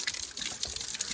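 Water gushes and splashes steadily as it is poured over a person's head outdoors in the sun on a trip to Hamsala Kona, close and continuous.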